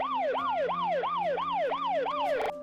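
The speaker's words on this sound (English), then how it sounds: "the wail of police sirens shattered the night" A police siren wails at night in a steady, repeating rising-and-falling sweep, loud and close, with a brief rapid yelp burst at the end and no voices.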